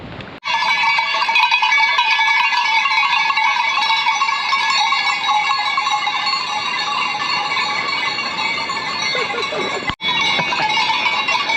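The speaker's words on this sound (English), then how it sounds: "These goats have been following us for ages. We can't get away from them." Goats on an alpine hiking trail in the Swiss mountains bleat repeatedly while their cowbells clank continuously nearby, loud and close, with a brief break near the end.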